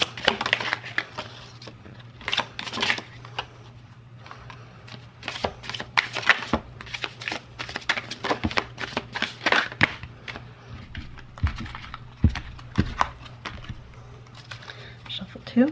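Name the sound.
shuffling a tarot card deck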